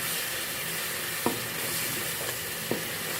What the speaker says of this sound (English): Koroga.